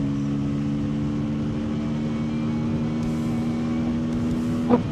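Bajaj Pulsar N250 motorcycle being ridden, its engine droning at a steady, even pitch throughout, close and continuous with a small bump near the end.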